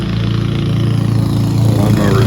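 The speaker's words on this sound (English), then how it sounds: "The lawnmower's going in the garage out back." A lawnmower engine runs steadily in a garage out back in suburban California, a loud continuous droning chug with a rapid regular pulse throughout.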